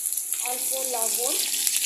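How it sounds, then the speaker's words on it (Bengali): Cauliflower and potatoes fry in oil with a soft, steady sizzle and occasional pops, while a person talks briefly over it. "আর হালকা লাল করে আমি এটাকে ভেজে দেবো"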